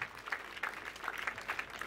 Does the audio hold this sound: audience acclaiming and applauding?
yes